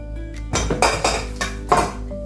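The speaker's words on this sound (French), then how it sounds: "Je mets l'aloe vera dans la marmite." Aloe vera gel goes into a metal cooking pot as part of a homemade hair shampoo with flax seeds. Several close, bright clanks of utensil against the pot ring out over a low background hum.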